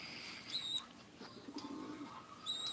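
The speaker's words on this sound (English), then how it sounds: "Yeah, birds are funny." A young bird that fell out of its nest calls with a few thin, high chirps, faint and close by, over a low background hum.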